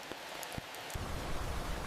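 Steady rain falls in a forest in a dense hiss with a few louder drips landing nearby, growing slightly heavier toward the end.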